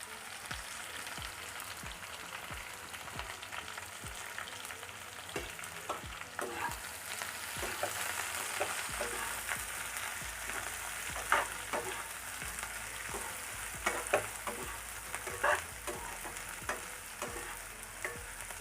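Chopped onions for Andhra-style poori masala sauté in a pan with a steady soft sizzle, while scattered clicks and taps of stirring sound over it from start to finish.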